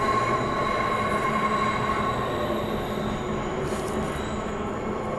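A Transperth train rolls steadily along the rails on the Clarkson to Perth line, with a continuous rumble and high, sustained wheel squeal, loud and close, with no talking.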